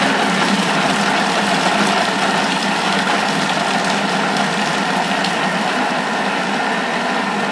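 A Thermomix food processor churns cauliflower florets at speed 5, giving a steady, close motor whir with a dense grinding rumble that runs evenly throughout.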